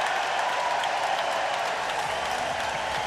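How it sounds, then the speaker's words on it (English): A hockey arena crowd at an AHL Calder Cup playoff game between the Texas Stars and Abbotsford Canucks reacts to a penalty call. It is a loud, sustained roar with scattered clapping that fills the space and holds steady without letup. "listen to the crowd"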